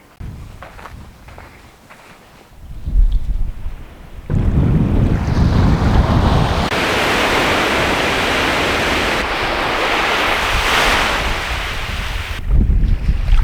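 Ocean surf rolling onto a Newfoundland beach, a broad roar that builds after a quieter start with footsteps, then holds steady, loud and close with wind buffeting the microphone.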